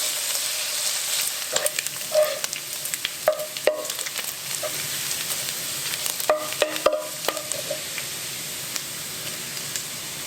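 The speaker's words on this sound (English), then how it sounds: "Add the cut bacon and cook it until it's very, very crispy." Cut bacon frying in a pan until crispy, a soft steady sizzle with scattered crackles and pops and a few louder clicks of stirring, close by and without talk.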